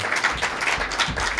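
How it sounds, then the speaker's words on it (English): Brief burst of audience clapping at the Salem Access TV annual meeting in 1999, dense and fairly loud, with no voices over it. "I would like to just have a minute just to give David another round of applause"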